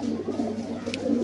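A racing pigeon in a loft coos softly in a brief, low, rolling call, heard close and alone with no talking.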